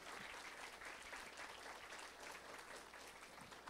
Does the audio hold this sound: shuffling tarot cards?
no